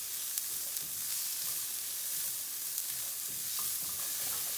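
Garlic frying in a pan over medium heat, a steady close hiss of sizzling oil with faint stirring scrapes, continuous and even throughout.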